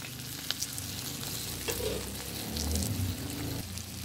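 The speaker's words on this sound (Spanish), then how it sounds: "Ahí ya lo voy a dejar que se fría." Chicken seasoned with blended oregano frying in a pan over a wood fire, a steady close crackling sizzle with occasional pops and a brief stir, no talking.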